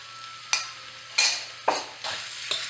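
Pork and bamboo shoots sizzle quietly in a pan, with a few sharp scraping stir-fry strokes and tosses breaking through the steady frying hiss.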